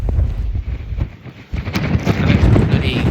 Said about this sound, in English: It is a flipping windy.